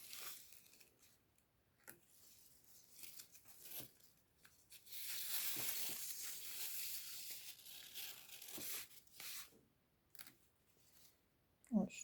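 Close, quiet snipping of scissors cutting ribbon lengths for a flower wreath, several crisp cuts with a longer rustling stretch in the middle.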